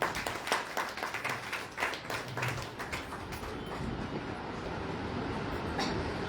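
Audience applause at a Maratha Seva Sangh installation ceremony for Jijau Brigade officers in Barshi, a crowd clapping in a dense, moderately loud burst that thins toward the end into a steadier rustling wash.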